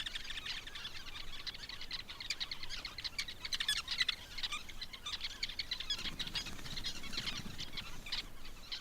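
A male Cape weaver bird calls near its nest in South Africa, a rapid buzzing, chattering stream of chirps with quick repeated notes, fairly soft and continuous, with no voices.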